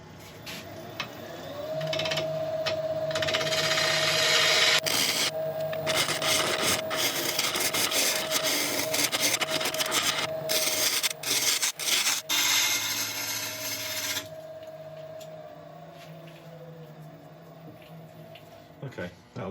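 Heavy wood turning on a lathe as a gradual curve is cut, with loud sustained scraping and rasping under a steady motor hum, easing near the end to a quieter running tone.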